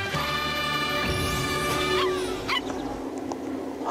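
A dog in a Japanese TV commercial barks and yips in short bursts over loud music and effects, close and brief.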